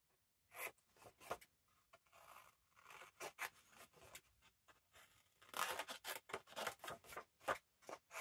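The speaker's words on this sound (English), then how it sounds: "Let's cut these bits." Scissors snip through the pages of vintage books in quick, close, quiet cuts and rustles, irregular at first and then in a denser run of snips.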